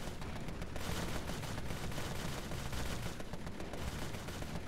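Dense, rapid gunfire in the video game Empire of Sin, a loud continuous barrage of overlapping shots with no pauses, heard alone.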